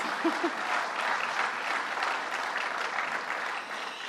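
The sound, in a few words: audience applause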